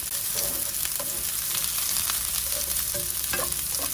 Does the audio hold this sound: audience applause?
no